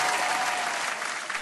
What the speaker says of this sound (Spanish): Un fuerte aplauso para Jesucristo.